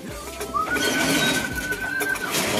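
Racing pigeons coo softly amid rustling and flapping nearby, with a steady background drone and a faint high whistle running through.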